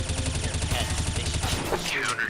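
Rapid automatic gunfire in the Counter-Strike video game crackles in a dense, fast burst for over a second, then a few scattered shots follow while someone talks over it.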